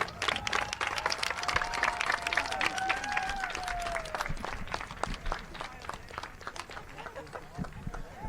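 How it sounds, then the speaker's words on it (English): Outdoor crowd applause and cheering for seniors on Senior Night at a boys' high school soccer game at a stadium field, steady clapping with a tonal whistle-like sweep over the noise, and talk mixed in. "Please give these seniors a round of applause."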